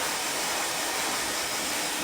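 Hair dryer blowing steadily on hair, a loud continuous airy whoosh held close with no breaks.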